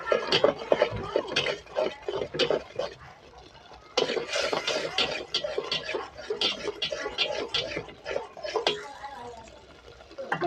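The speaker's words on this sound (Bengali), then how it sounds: "এবার সব মশলাটাগুলোকে ভালোভাবে নেড়ে দেবো না ভালোভাবে নেড়ে দিতে হবে" Spices are stirred in a pot, with turmeric just added, while beef curry cooks at home. A ladle scrapes and knocks again and again in uneven bursts close by, with soft sizzling between the strokes.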